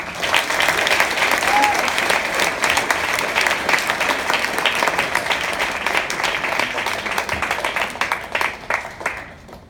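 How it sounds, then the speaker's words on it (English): Banquet audience applauding a student speaker at a speech team banquet, a loud, sustained round of clapping from a full room that gradually thins toward the end, with faint voices beneath. "Let's a round of applause for Joey."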